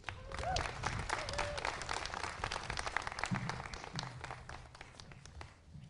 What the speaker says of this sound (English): join me in a big round of applause